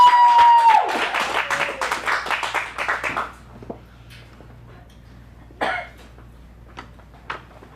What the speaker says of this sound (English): Let's give one extra round of applause for Charlie performing for the very first time